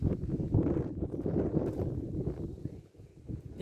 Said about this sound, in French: Il y a un peu de vent, mais bon.